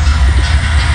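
Train rolling on rails in a Roblox train simulator game, a Florida East Coast freight train, giving a loud, steady rumbling drone with low rail noise throughout, no voices.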